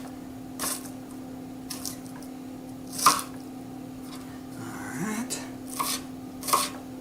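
A knife chops an onion on a slicing board in a kitchen, giving a few separate, sharp cuts spread out over a steady background hum, with one brief spoken word.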